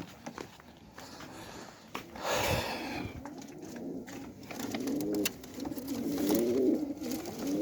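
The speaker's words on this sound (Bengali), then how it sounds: "এই যে প্রথম কবুতর আমি দিয়ে দিলাম" Pigeons coo softly and repeatedly while being placed into a carton, with rustling, light shuffling and low muffled handling noise around them.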